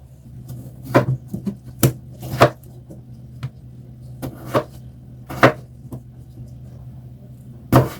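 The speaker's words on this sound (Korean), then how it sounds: "먹기 좋은 크기로 이렇게 잘라주시면 됩니다" Knife chopping peeled taro on a cutting board, a handful of separate sharp thuds spaced irregularly over a quiet background, close and fairly loud.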